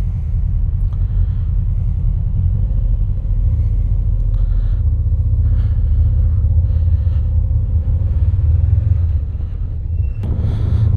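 A Honda VFR800 motorcycle fitted with a snorkel intake mod rumbles steadily while being ridden, a deep continuous engine drone close to the listener with slight rises in revs.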